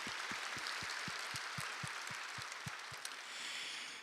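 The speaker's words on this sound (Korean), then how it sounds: "오늘 동산의 가족이 되시는 모든 분들께 마음을 담아서 큰 박수로" A church congregation claps to welcome new members during a Sunday morning service, a broad, steady wash of applause that carries on evenly, with a strong low rhythmic thump pulsing underneath.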